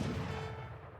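A single deep boom from a Falconet field cannon in Age of Empires III, a muffled low blast fading over about a second, distant and fairly quiet.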